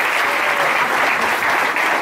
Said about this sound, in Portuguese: Pode aplaudir Jesus, irmão.